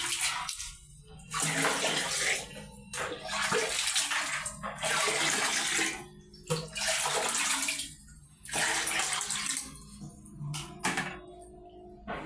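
Water gushes from a tap into a bathtub to cool hot bathwater, in loud bursts of running flow broken by brief pauses where the stream stops.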